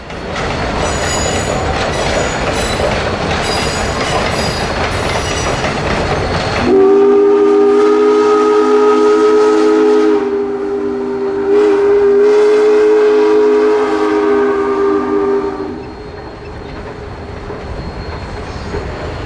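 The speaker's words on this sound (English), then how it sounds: "Here we see the train creeping along the Tuckaseegee River through Barker's Creek." Great Smoky Mountains Railroad locomotive 1702 rolls slowly along the Tuckaseegee River at Barker's Creek, its horn sounding a long sustained blast over rumbling, clattering wheels, loud and close with no talk.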